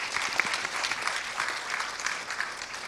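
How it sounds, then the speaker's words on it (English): Audience applause for primary election candidates at a community forum, a steady round of clapping from a modest crowd, evenly sustained and fairly close. "a round of applause for our candidates on those topics"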